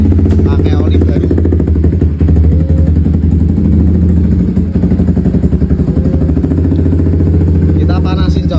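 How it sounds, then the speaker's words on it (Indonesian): A Honda CBR150 motorcycle engine idles steadily while warming up on fresh Motul 5100 oil, a loud, continuous close-range drone with a slight uneven throb and no talk over it. "Halus banget mesinnya coy, pakai oli baru."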